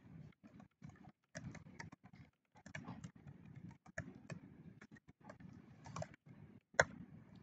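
Ruby code being typed on a computer keyboard: quiet, irregular bursts of key clicks with short pauses between them and one sharper tap near the end, heard up close in a quiet room with no talking.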